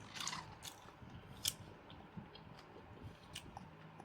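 A child chews a meal of fish and vegetables with soft, moist, irregular biting and smacking clicks, faint and close against a quiet room.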